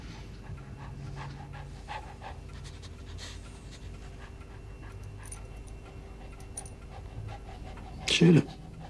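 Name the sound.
dog panting and whimpering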